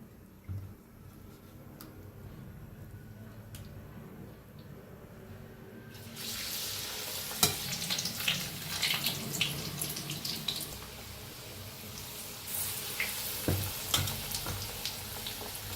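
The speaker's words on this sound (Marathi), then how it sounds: "साइडने छान असं तळले, काढून घेऊया।" Spinach pakoras are frying in hot oil in a home kitchen. A faint background gives way to a loud, continuous close sizzle after several seconds, with small crackling bursts on top and no talking.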